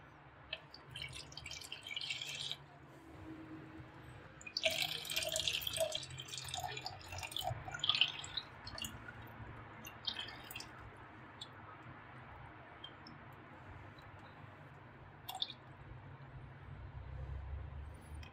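Water poured into a container to make a caustic lye solution for olive oil soap, with soft intermittent drips and trickles and a few brighter splashing bursts over a quiet background.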